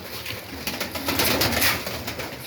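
Pigeons, among them a yellow-marbled bird, coo in a dovecote, a close, continuous murmur of soft throaty calls with rustling, and no voices.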